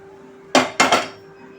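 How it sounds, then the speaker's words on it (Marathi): A metal utensil scraping and knocking against a pan while peanut katli mixture is cleared out, giving three quick close clanks in a row over a steady low hum, with no talk. "संपूर्ण मिश्रण पॅनमधून आपण आता काढून घेऊया"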